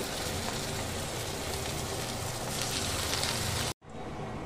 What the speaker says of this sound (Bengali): এবার আমি আস্তে আস্তে এরকম করে বাঁধাকপির মুচড়াগুলোকে তেলের মধ্যে, গরম তেলের মধ্যে দিয়ে দেব